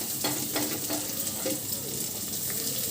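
Onions frying in oil for poha upma, with broadband sizzle and soft stirring scrapes running steadily throughout, close and moderately loud, with no talking.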